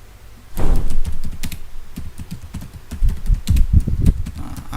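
Number keys on a computer keyboard are tapped in quick, uneven bursts of close, crisp clicks, loud and alone with no voices over them.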